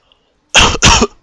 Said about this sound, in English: Excuse me, a little cough there.